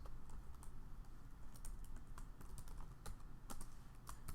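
Fingers type code on a computer keyboard, a steady run of light, close key clicks with occasional louder keystrokes, with no talking.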